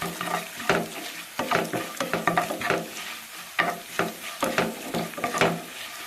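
Onion and drumstick leaves with turmeric sauté in a pan: a steady sizzle under repeated rhythmic stirring scrapes, close and fairly loud, with no talking.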